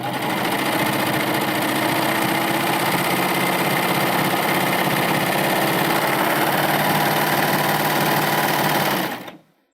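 A Baby Lock Euphoria cover stitch machine runs steadily as it sews a pass of stretch fabric for swimwear or athletic wear, a close, even mechanical whir and rapid needle clatter without a break, stopping abruptly at the end.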